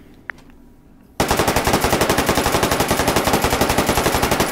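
Automatic fire from a Russian gun with a 64-round helical magazine in Hot Dogs, Horseshoes and Hand Grenades: after a faint click, a loud continuous burst of rapid, evenly spaced shots runs to the end.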